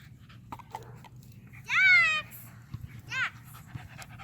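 A dog gives a short, high whining yelp, followed a moment later by a briefer whimper, over a low steady background hum.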